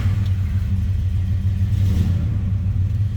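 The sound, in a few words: 1964 Dodge Dart GT engine starting and revving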